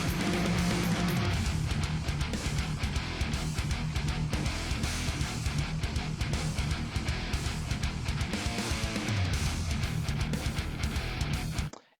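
Dense, driven electric guitar chords from a BIAS FX metal preset rhythm tone chug steadily alongside a full backing track, loud and continuous until cutting off at the end.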